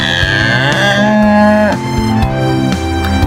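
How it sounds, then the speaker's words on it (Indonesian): A cow gives a loud, drawn-out moo lasting about three seconds, with a rich, droning tone that dips and shifts partway through, heard alone with no talking. "Ini suara sapi"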